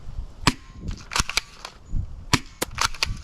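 Several airsoft sniper rifle shots fired in an outdoor game, about six or seven sharp cracks spaced irregularly over a few seconds, close and fairly loud with light background noise and no talking.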